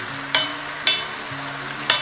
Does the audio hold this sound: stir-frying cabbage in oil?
yes